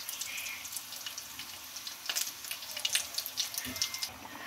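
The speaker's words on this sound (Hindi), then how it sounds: "इनको फ्राई कर लें। ऑयल मैंने गर्म होने के लिए रख दिया था।" Chicken box patties frying in hot oil: a steady, crackling sizzle with bright spitting pops, close and continuous, with a few louder bursts of spattering.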